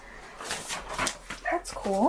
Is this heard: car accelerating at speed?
no